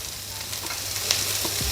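Finely chopped large onions sizzle in hot oil in a pan while a South Indian brinjal kuzhambu is being cooked. The frying gives a loud, steady crackle with a few small pops, and no one speaks.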